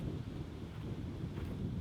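Wind buffets the microphone on an open disc golf course during a tournament round, a steady, loud rumbling roar with no talk.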